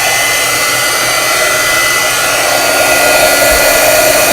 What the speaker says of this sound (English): So I take the heat gun.